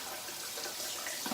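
Cold tap water running steadily into a bathroom sink for rinsing after a shave, a continuous close hiss and splash with no pauses and no talk.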